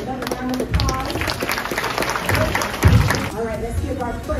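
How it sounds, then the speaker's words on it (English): An assembly gives kindergarten students a round of applause during school morning announcements, with a crowd clapping steadily while voices talk over it. "Let's give our kindergarten students another round of applause"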